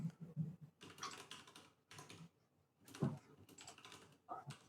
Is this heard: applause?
no